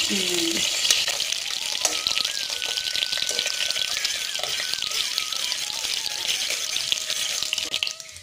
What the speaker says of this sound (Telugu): మసాలా దినుసులు అన్నీ వేగాయండి